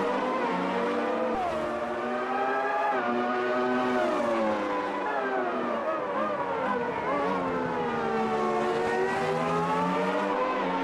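Formula One cars racing at Interlagos in the sim game Automobilista 2, high-revving engines wailing loudly and continuously with pitch sweeping up and down through gear changes and corners.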